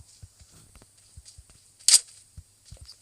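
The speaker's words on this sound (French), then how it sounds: "C'est une rafale. C'est une arbalète." A crossbow shot in the PUBG video game gives one sharp, bright twang standing out among soft in-game footsteps and small clicks, with no talk.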